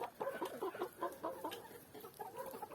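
Several chickens cluck and murmur softly in a converted village shed, their calls overlapping in an uneven, continuous chatter at low volume.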